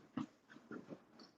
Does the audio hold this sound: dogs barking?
yes